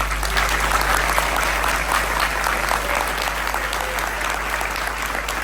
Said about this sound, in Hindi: मैं चाहता हूँ कि मेरे उद्बोधन से पहले आप लोगों की वो तालियों की आवाज सुनना चाहूंगा